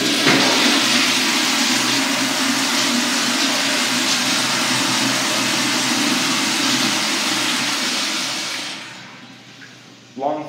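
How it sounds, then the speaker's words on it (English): A Zurn toilet in a McDonald's men's restroom in New York gives a long, loud, close rushing flush that runs steady for about eight seconds, then fades, with a brief clunk at the end. "It's a Zurn toilet."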